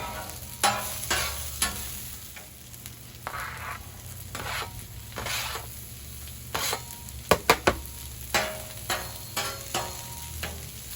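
Onions and peppers sizzle on a hot 36-inch Blackstone griddle under a low, steady hiss, broken by repeated spatula scrapes and a quick cluster of sharp metal taps.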